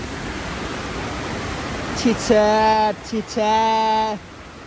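A small mountain waterfall pours steadily in a broad, constant rush throughout, while a voice briefly speaks or hums over it toward the end.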